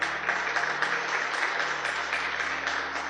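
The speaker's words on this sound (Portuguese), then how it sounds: "Você pode dar um aplauso para o Senhor?" A church congregation applauds, filling the space with steady, dense clapping that holds at a constant level throughout, with no voices over it.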